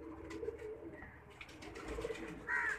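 A pigeon coos softly a few times, with low, rolling calls at a moderate distance, over faint background noise and rustling.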